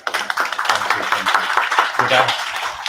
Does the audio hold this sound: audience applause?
yes